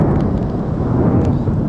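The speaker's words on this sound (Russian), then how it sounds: "Какой гром!" Thunder rumbles during a sudden rainstorm in the Altai mountains, a loud low continuous roll lasting under two seconds.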